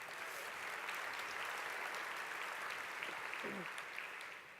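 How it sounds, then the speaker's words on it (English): Audience applause at a presentation, a steady wash of many hands clapping at moderate distance, fairly faint overall, with a brief voice rising near the end. "Let's give them a round of applause."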